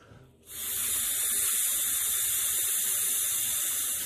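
Air blown hard through an Alphacool Eiszapfen quick-disconnect coupling for water cooling, a sudden loud steady rushing hiss that starts after a short quiet moment and holds to the end.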